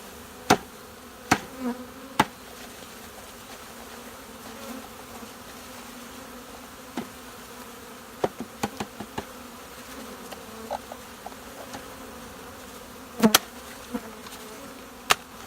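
Bees buzz faintly and steadily around a beehive in Northern Illinois, with scattered sharp knocks and clicks.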